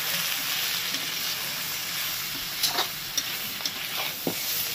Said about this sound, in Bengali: এবার এটাকে একসাথে টমেটোটার সাথে কষিয়ে নেব